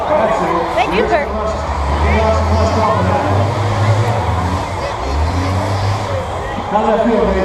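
Bus engines rev loudly at a demolition derby held at a fair, a steady roaring drone with rising revs, joined by crowd noise and an announcer talking over the din.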